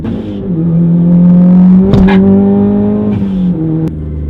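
A Mitsubishi RVR Hyper Sport Gear R engine holds a steady high drone during dynamic driving, dips, then revs up sharply and settles again, loud and close, with no voices.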